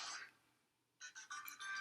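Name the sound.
phone call ringtone in video game Pokemon Scarlet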